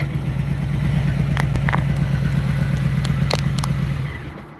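A motorcycle engine idles steadily and close, with a low, even throbbing pulse and a few light clicks, fading slightly at the end.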